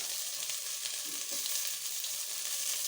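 Sauce cooks in a pan, giving a continuous dense frying sizzle with faint bubbling and stirring, close and fairly loud throughout with no voices.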